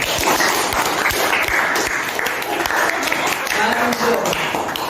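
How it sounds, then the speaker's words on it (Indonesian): A small group in a school counseling session claps loudly and close by in a dense, continuous burst of applause, with voices mixed in. "Tepuk tangan buat jawaban Riana"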